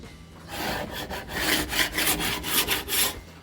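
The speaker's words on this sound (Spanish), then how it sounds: "Marco con un simple destornillador nomás." A simple screwdriver scores lines into sheet metal for a homemade planter, a rhythmic rasping scrape repeated in short strokes, close and alone.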